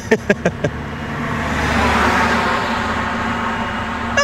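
Lamborghini Urus SE SUV driving past on a road, its engine and tyre noise swelling to a peak midway then easing off, following a few sharp knocks at the start.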